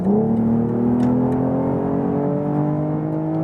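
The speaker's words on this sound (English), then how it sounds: "Great sound from the 6-cylinder." BMW M440i Gran Coupe's six-cylinder engine accelerating hard in sport mode, a loud, steady rising drone with harmonics climbing smoothly throughout, heard from inside the car with no talking.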